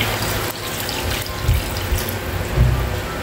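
Water splashes and gurgles steadily into a pot of sinampalukang manok (chicken tamarind soup) for a few seconds, with soft clinks of metal; no one speaks.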